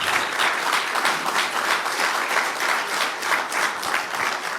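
A campaign town hall crowd in Iowa breaks into loud, dense applause that stays steady and continuous throughout, with no talk standing out over it.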